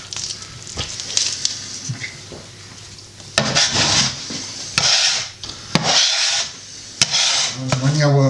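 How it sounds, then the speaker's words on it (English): White loaf bread dough is kneaded by hand on a bench, making repeated soft rubbing, slapping and squelching strokes in an uneven rhythm, close by, with some quiet talk in the background. "It's just called kneading the dough."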